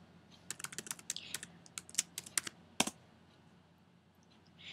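Computer keyboard typing as an email address and password are entered, a quick burst of soft, close key clicks over about two seconds followed by a single sharper tap and then near silence.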